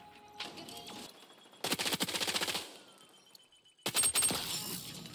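Three loud bursts of rapid P90 submachine gun fire from the shooter game XDefiant, each a dense string of shots lasting about a second, separated by short pauses of quiet.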